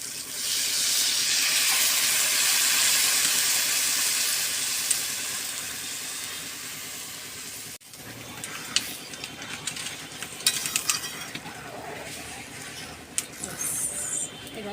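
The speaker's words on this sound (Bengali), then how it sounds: "এবার আমি জল দিয়ে দেবো।" Water poured into a hot pan of mrigal fish curry with potatoes, eggplant and green chilies, giving a loud steady hiss and sizzle that drops off abruptly midway, followed by quieter bubbling crackles and small clinks.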